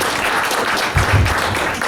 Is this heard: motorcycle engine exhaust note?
no